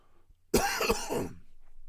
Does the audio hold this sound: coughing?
yes